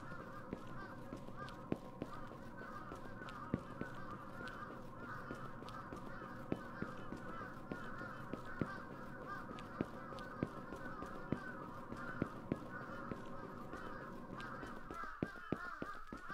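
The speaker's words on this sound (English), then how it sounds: "That's a lot of crows." A flock of crows caws repeatedly in the horror video game Akai Onna, with harsh calls scattered over a steady, low ambient drone for about sixteen seconds.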